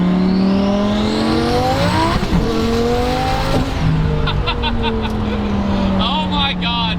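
A twin-turbo V10 go-kart accelerates hard, its engine screaming up through the revs with a shift midway, loud and close, with brief turbo flutter and chirps as it pulls away.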